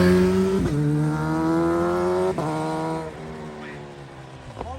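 A Kawasaki Z1000 sport motorcycle engine revs up and drops back several times, its pitch climbing then snapping down in sharp shifts, steady and close with no talking.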